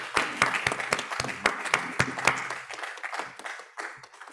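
Audience applause at a closing plenary on health and healthcare, honouring the Global Shapers: a smallish group clapping with distinct, uneven hand claps, moderately loud, thinning out toward the end.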